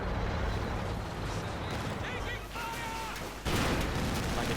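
Dense gunfire and artillery from a Company of Heroes 2 real-time strategy battle, with Soviet and German forces exchanging fire, as a continuous loud barrage with a sharper burst near the end, and some tonal effects mixed in.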